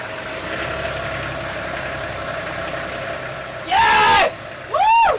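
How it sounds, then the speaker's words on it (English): Sailboat engine revved after a jump start: a steady mid-pitched idle, then two loud rising-and-falling revs near the end. "Can you rev that engine, Elena?"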